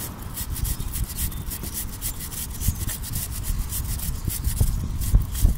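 A stiff brush scrubs the chain of a Honda Shadow VT750 motorcycle in quick, uneven back-and-forth strokes. The rasping is moderately close, with small clicks of metal links.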